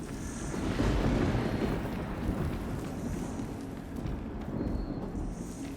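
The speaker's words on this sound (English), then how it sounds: "Sounds like a storms are brewing too." Thunderstorm in Horizon Forbidden West, with a broad rolling rumble of thunder over steady rain and wind, fairly loud and sustained, swelling near the start and easing slightly later, alone without talk.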